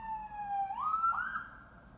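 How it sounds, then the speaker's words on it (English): An emergency vehicle siren on a London street, one continuous wailing tone that climbs in pitch, steady and moderately distant, with no voices. "I'll just let the siren go"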